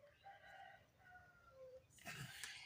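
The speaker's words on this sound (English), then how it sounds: "My chickens are sounding the all clear." Several roosters crow one after another at a distance on a farm with many chickens, their calls faint, with a louder, closer crow breaking in near the end.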